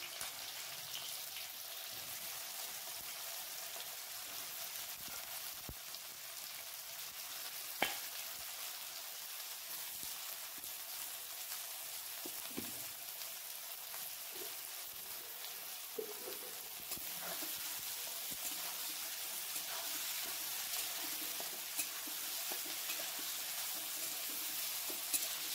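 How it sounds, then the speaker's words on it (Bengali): Chopped onions fry in hot oil with whole garam masala and salt, a steady quiet sizzle with occasional soft clicks and scrapes of stirring, no voices. "পেঁয়াজগুলো 10 মিনিট কষে নেব।"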